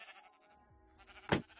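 A single sheep bleats in a video game, one short bright bleat near the end over faint quiet background sounds.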